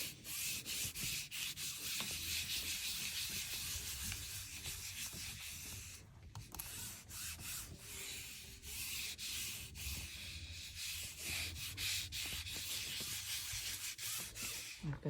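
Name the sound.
rubbing paper onto a gelli printing plate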